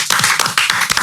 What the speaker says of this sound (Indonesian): Tepuk tangan dong buat Mas Do